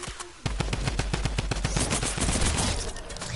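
A minigun fires in a video game, a rapid, loud, sustained burst of closely spaced shots that rattles on for several seconds with no voices over it.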